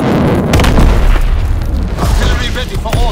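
A heavy, booming V2 rocket explosion in a war video game rumbles loud and sustained, with crackling debris and a brief game voice on top.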